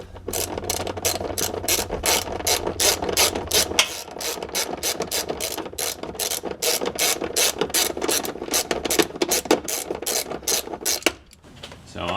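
Ratchet wrench on a long extension with a swivel, working on a 2022 Jeep Wrangler, clicking in a rapid, steady series of close, crisp pawl ticks with a brief pause near the start and a break near the end.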